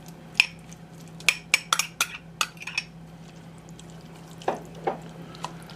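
Pre-cooked barley tipped into a pot of rabbit stew and stirred, a series of sharp spoon-against-pot clinks and scrapes in a quick cluster, then a few softer wet stirring knocks, with no talking.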